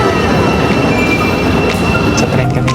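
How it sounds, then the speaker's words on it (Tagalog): A loud, steady rumble of a crowded London train running on rails, with a faint squeal of wheels near the end. "Sa tren kami ngayon."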